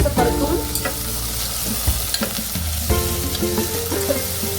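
Split field beans (dalimbi) sauté in hot oil for a Jain khichdi, a steady close sizzle with repeated scraping stirs of a spoon across the pan, no voices.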